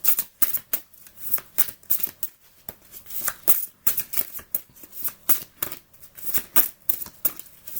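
Tarot cards being shuffled by hand for a reading, a rapid series of crisp, close riffling flutters and soft slaps in quick irregular bursts, with no talking.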